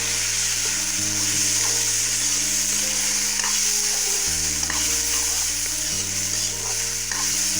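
Washed dalia (broken wheat) sizzles steadily in a hot pan, a constant close frying hiss with occasional soft scrapes of stirring and no voices.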